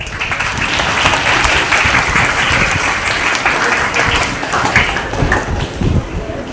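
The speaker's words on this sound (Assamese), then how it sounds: "খুব ধুনীয়াকৈ এটা হাত তালি দি পেলাই" A college audience at a quiz programme applauds the organisers, with loud sustained clapping from many hands filling the room.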